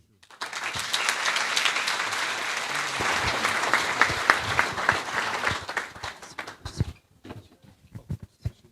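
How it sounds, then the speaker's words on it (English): An audience at a community centre handover ceremony applauds steadily for several seconds, the clapping thinning out into a few scattered claps at the end. "Ladies and gentlemen, one more round of applause for Honorable Brandon Pillay."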